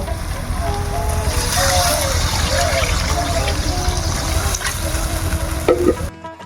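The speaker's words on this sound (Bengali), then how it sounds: "পরিমাণ মতন হলুদ দিয়ে দেবো, লবণ, পরিমাণ মতন জল দিয়ে দেবো।" Water pours into a hot pan of turmeric and salt while a magur catfish curry is being cooked, making a loud continuous splash and sizzle that settles into bubbling frying before a brief clatter at the end.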